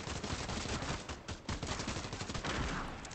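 Dense, continuous automatic gunfire from a Fortnite match, loud and unbroken bursts overlapping for a few seconds with no pauses or voices.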